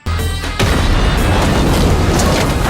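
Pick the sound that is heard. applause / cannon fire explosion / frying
cannon fire explosion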